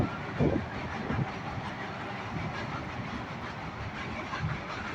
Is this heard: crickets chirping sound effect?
no